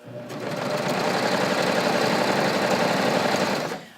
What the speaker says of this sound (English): So I'm just going to finish stitching this.